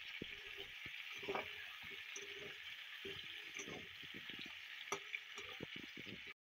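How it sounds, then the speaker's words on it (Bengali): Carrots and onions being stirred and lightly fried for a chicken stew give a steady soft sizzle, broken by frequent scraping and tapping knocks of a spoon against the pan throughout. "গাজর, পেঁয়াজ সব দিয়ে ভালো করে নেড়ে চেড়ে হালকাভাবে একটু ভেজে নেব।"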